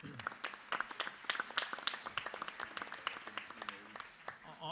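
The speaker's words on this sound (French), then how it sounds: "On peut l'applaudir" An audience at a national forum of associations and foundations applauds a speaker after a plenary talk; scattered, moderately faint clapping runs for a few seconds while a voice speaks over it.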